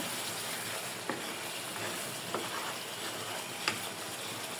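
Spice masala with tomato and green chili frying in a pan for a prawn curry, a steady close sizzle with a few faint stirring scrapes at intervals.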